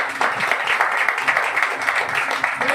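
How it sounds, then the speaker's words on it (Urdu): A church congregation at a Sunday meeting breaks into loud applause, with many hands clapping in a dense, lively wash that holds steady throughout. "یسوع کے نام کے لیے زوردار تالیاں ہو جائے"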